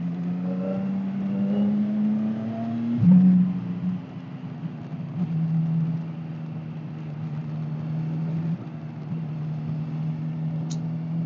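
A Suzuki GSX-S150 motorcycle engine idles nearby with a steady, droning hum that briefly rises and settles a few times, running alone with no voices.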